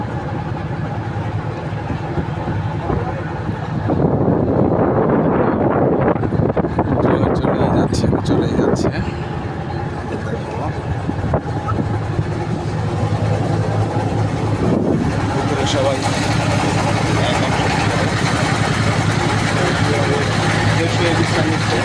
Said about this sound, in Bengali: আমাদের ট্রলার চলছে, এতে চলছে।